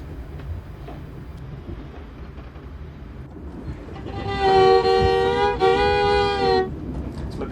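A train runs along a railway line with a steady rumbling roar throughout. Partway through, a long, sustained horn-like tone rises loudly above the rumble for about two seconds.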